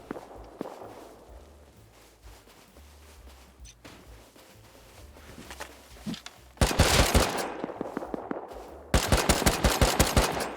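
Gunfire in the survival video game Rust: quiet footsteps and scattered single shots give way to two loud sustained bursts of rapid automatic fire, close and dominant.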